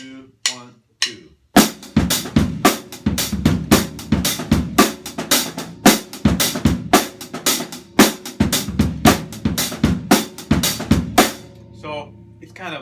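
Drum kit playing a linear African groove with bass drum variations: a steady run of sharp, close hits in a quick interlocking rhythm, loud and dry, with a short pause before the pattern starts and no talking over it.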